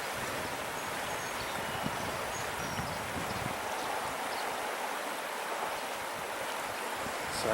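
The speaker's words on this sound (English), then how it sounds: "The wind's blowing in my face." Steady wind buffets a handheld camera outdoors on a hike, a continuous broadband rush with gusty low rumble filling the whole stretch, constant and close without any talking.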